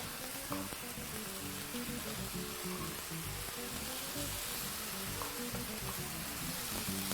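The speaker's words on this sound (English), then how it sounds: "Just gonna let that sizzle for a little bit." Chicken pieces sizzle steadily in a hot pan for a creamy chicken dish, a continuous loud crackling hiss with no voices.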